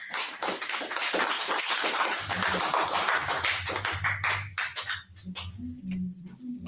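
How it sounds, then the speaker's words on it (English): A church congregation claps together in a fast, dense wash of hand slaps, with low organ or bass tones entering partway through beneath the clapping. "Clap it up."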